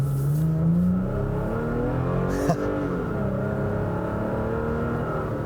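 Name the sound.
Toyota Tacoma TRD Pro truck revving with TRD Sport exhaust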